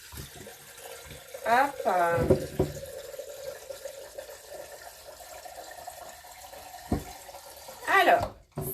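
Water pours from a tap into a Thermomix bowl in short bursts of splashing and filling, close by, with a person talking briefly in French in between.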